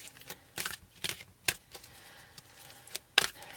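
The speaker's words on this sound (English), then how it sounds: "I'm just going to go ahead and get some cards shuffled here" Tarot cards are shuffled by hand, giving quick crisp snaps and riffling bursts in uneven clusters, close up and fairly quiet.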